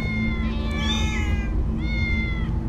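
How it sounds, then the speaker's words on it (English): Several cats meow in Minecraft Story Mode, two drawn-out rising meows overlapping over a steady low game hum, clear and fairly close. "Many cats! So many cats!"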